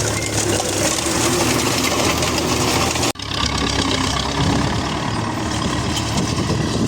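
Tractor pulling a seeder drives past in a field, its engine running at a steady loud drone, briefly cut off midway before continuing.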